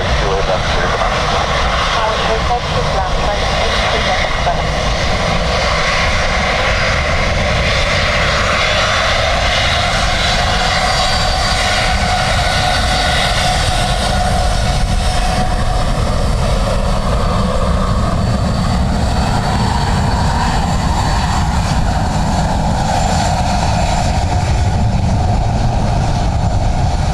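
Airliners land in a strong crosswind at Dublin Airport, with a continuous loud roar of aircraft engines and wind noise that swells slightly over time, while people talk over it.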